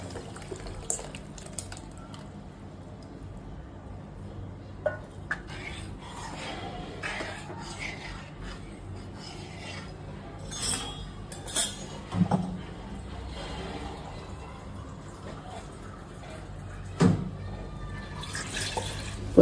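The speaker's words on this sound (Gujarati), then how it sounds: "પછી આપણે એને પ્રમાણસર પાણી રેડીશું." Water poured into tempered Gujarati dal in a pot, soft trickling and dripping with a few small clinks of utensils, fairly faint and close, with no one speaking over it.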